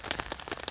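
Rain pattering on a camp tarp, a brief run of soft, irregular drop taps close by.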